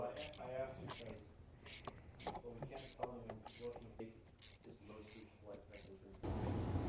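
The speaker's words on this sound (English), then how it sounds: "once it's on there, I'm adding the ratchet wrench" A ratchet wrench clicks rapidly in repeated bursts while tightening a bolt during high pressure fuel pump replacement on a 5.3L Silverado, close and crisp, with a voice talking over it.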